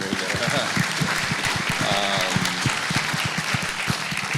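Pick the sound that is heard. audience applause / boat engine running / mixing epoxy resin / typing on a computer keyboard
audience applause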